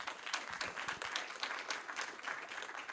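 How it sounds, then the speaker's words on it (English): Audience applause for a conference panel at a climate leadership event, a dense, steady wash of many hands clapping that carries on through the whole stretch with no talking over it. "I want to give another round of applause to our fantastic panel."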